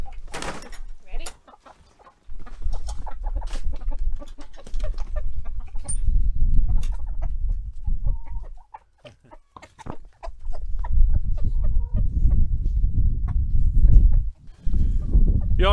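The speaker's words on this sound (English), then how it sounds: "that Speckles is a beautiful rooster" A farmyard rooster clucks and crows near and fairly loud amid scattered fowl calls and outdoor commotion, with people talking intermittently over and between the bird sounds.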